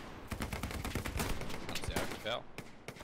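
Dense gunfire crackles through a D-Day battle in a video game, rapid machine-gun bursts and rifle shots layered in a continuous close barrage, with no voices over it.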